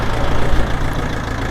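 A tractor on huge wheels idling, a loud, low engine rumble with a slightly uneven throb, close by and steady for a brief moment.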